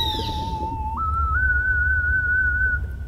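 A steady in-game whistle sounds in Endless Ocean: Blue World while diving near a sperm whale, a single pure tone that steps up in pitch partway through and holds clearly over a low underwater rumble.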